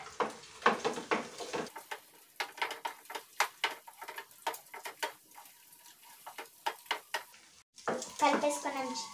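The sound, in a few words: stirring egg noodles with egg in a pan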